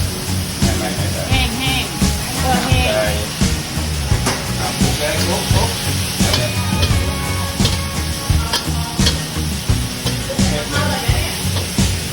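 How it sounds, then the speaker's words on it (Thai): Oil boiling in a pan over high heat with water added, a loud continuous sizzle and crackle, close up, with talking over it. "ไฟแรงน้ำมันเดือดปุ๊บ ใสน้ำก่อนเลยอ่ะ"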